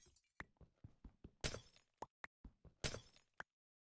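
Glass breaks repeatedly in the video game Cathedral: a rapid series of sharp shattering crashes and clinks, with two louder smashes among short impacts, then silence.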